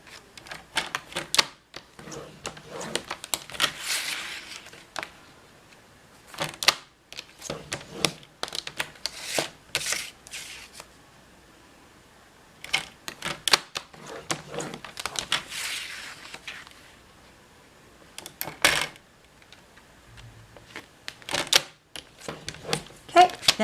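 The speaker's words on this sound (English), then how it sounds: "let's grab our Stampin' trimmer. Okay, so first we're going to score all 4 sides at 1 inch." Paper being scored on a Stampin' trimmer in bursts of sharp scraping and clicking strokes, separated by quiet pauses, close and crisp.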